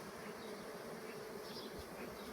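Honey bees drone in a dense, continuous buzz close by at a beehive, with many insects humming together at steady loudness.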